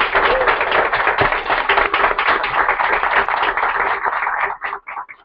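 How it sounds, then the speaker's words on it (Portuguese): Applause after a lecture on family business challenges, a dense burst of hand clapping from a nearby audience that thins out into a few scattered claps near the end, with a faint tone beneath. "Eu acho que eles merecem uma salva de palmas."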